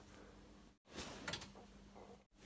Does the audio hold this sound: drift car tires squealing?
no